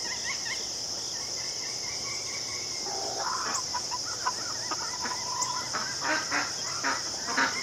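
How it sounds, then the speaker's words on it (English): Countryside birds call and chatter at a distance through several seconds, over a steady bed of insect buzzing and faint rural background sound. "there are a lot of birds out today"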